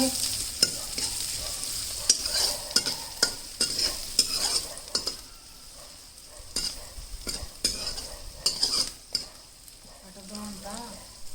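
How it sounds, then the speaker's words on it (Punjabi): Onions sizzle and fry in a pan while a spoon stirs and scrapes in repeated, uneven clatters, close by and fairly loud. "ਆਪਣਾ ਤੜਕਾ ਜਿਹੜਾ ਹੈਗਾ ਸੀ ਵਧੀਆ ਭੁੱਜ ਚੁੱਕਿਆ"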